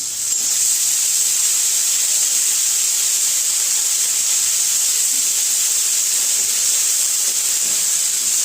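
Ginger and green chili paste frying with onions in a pan for a hilsa fish and taro curry, giving a steady, loud hiss and sizzle that runs unbroken from start to finish with no talk.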